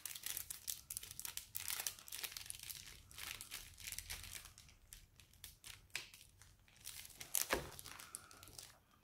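Paper crinkles and tears close by as an advent calendar window is opened, a steady scatter of rustling and crackling bursts with a sharper rip near the end.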